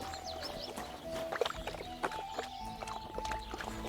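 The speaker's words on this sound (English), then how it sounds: "Ooh, look at these horses." Several hoof knocks ring out from horses in Kingdom Come Deliverance 2, an uneven clip-clop at close range, mixed with soft chirping birds and a quiet musical bed.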